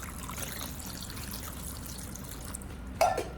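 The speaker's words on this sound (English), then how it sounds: "pour in enough water to fully submerge the ginger" Water pouring into a bowl holding fresh ginger and baking soda, a faint steady trickle beneath background hiss, ending in a brief louder splash.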